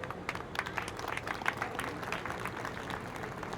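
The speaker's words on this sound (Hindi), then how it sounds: "आप सभी एक बार तालियां बजाकर इनका स्वागत करें।" A crowd at an Ambedkar Jayanti public event claps to welcome the chief guest, a fairly faint, uneven patter of many hands over a low background rumble, fading slightly toward the end.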